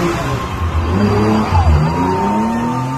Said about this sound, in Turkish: Arabanın el frenini çekip hızla kendi etrafında dönmek